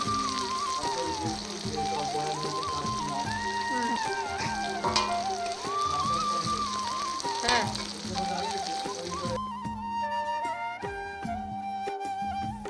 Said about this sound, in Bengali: এগুলো লাল করে ভেজে নেব